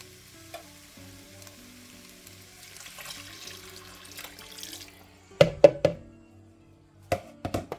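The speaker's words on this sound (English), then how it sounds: "I'm going to go ahead and add in the beef broth." Beef broth pours into a pot while cooking, a faint liquid stream and soft sizzle followed by several sharp clinks and knocks of utensils against the pot near the end, no talking.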